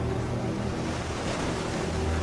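Ocean surf pounding a shoreline, a loud, unbroken wash of crashing waves and rushing water with heavy low rumble, filling the whole stretch with no pauses.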